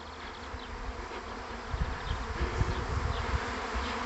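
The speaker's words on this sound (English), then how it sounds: "there's obviously a lot of bees still in the air" A swarm of honey bees buzzes in the open air, with a dense, steady drone from many wings that swells slightly partway through, individual bees passing close over the continuous hum.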